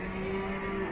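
Jabres cow at a livestock market, a single short steady low moo, close and clear against faint market background.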